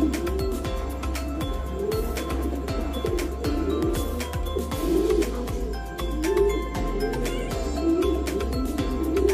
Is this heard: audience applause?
no